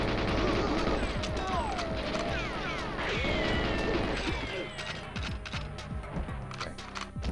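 Rapid bursts of gunfire in the video game GoldenEye 007, with crashes and sweeping synthetic effects, loud and busy, thinning into scattered shots toward the end.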